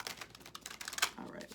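Pre-shuffled tarot cards are tossed and mixed by hand, producing quick, soft, irregular clicks and papery flicks, fairly faint and close, with no clear speech.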